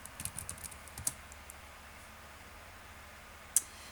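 Quiet computer keyboard typing while entering a web search, with a brief burst of soft key clicks near the start and a single sharper key tap toward the end over faint room noise.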